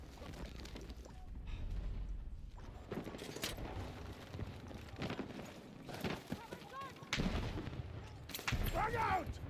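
Battlefield 6 combat: booming blasts and bursts of gunfire at close range, rumbling heavily at intervals amid steady battle noise, with voices calling out over the din.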